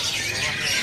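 A white-cheeked bulbul chatters and sings in a busy, noisy burst of bright chirps, close by, with a faint voice or background murmur underneath.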